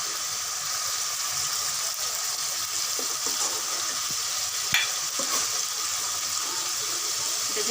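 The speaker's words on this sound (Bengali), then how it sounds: "আগের দিন লবণ দিয়ে রাখা হয়েছিল মাছগুলোর মধ্যে, এখন এগুলো কষিয়ে নিচ্ছে।" Fish salted the day before being stir-fried in a pan, a constant close sizzle with intermittent stirring scrapes and one sharper clack of utensil on pan.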